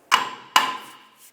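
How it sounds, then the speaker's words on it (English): Two sharp metallic hammer blows, spaced about half a second apart, knock the rear wheel bearing and hub assembly loose on a 2007-2010 Chrysler Sebring, each ringing briefly before fading. "I can now hammer the wheel bearing and hub assembly off"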